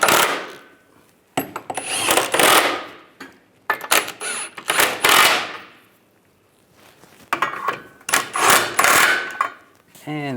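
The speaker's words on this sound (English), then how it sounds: "Now we'll snug all these down first." Bolts on the front lower rearward control arm of a 1998-2010 Volkswagen Beetle are snugged down with a tool, giving several loud bursts of metallic ratcheting and clatter separated by short quiet pauses.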